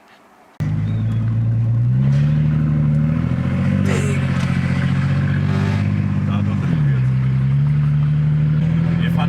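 Exhaust of a Mercedes CLK 320 while driving: a steady, loud, close engine drone that starts abruptly and rises and dips with shifts in revs. Voices talk over it.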